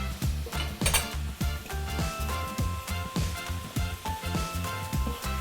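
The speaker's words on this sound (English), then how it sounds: "and then we're going to cook down the onions." Onions cooking down without oil in a pan with a little soy-sauce-substitute liquid: quick, rhythmic scraping and clinking of a utensil against the pan over a soft, low simmer, close up and with no speech.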